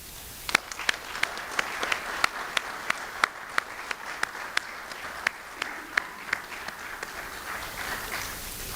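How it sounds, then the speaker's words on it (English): Applause at a Murray State University Army ROTC commissioning ceremony for the newest Army second lieutenants. Sharp, distinct claps ring out one after another in a steady rhythm, standing out over a softer spread of clapping throughout. "please join me in a round of applause for the Army's newest second lieutenants"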